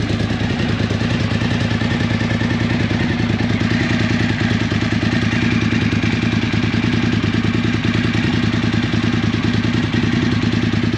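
Suzuki motorcycle engine idling steadily after an oil and filter service, a loud, close, even rumble with a rapid regular throb and light mechanical clatter, no voices.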